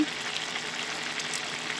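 Steady sizzling of onions frying in hot oil, a constant hiss with faint crackles and no voices.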